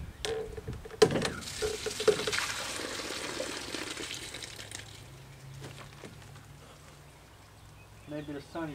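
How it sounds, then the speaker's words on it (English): Water gushes into a backyard swimming pool to top it up, a rushing pour that fades after several seconds, with faint voices and thumps around it. "Looks like I have to add some more water to the pool."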